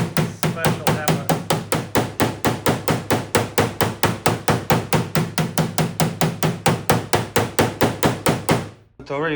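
A special dent repair hammer taps steadily on a Toyota RAV4 hood during paintless dent repair: loud, evenly spaced strikes in a fast, regular rhythm that stop just before the end.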